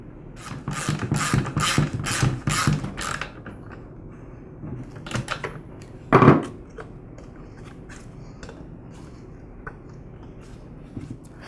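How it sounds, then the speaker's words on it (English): A ratchet wrench clicks rapidly in short bursts while a spark plug is swapped on a Ryobi handheld gas blower, followed by a sharp clunk and quieter fiddling, close up with no talk. "And I'll go ahead and replace the spark plug."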